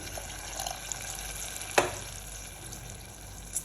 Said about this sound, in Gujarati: હવે આપણે એમાં એક ગ્લાસ જેટલું પાણી એડ કરી દઈશું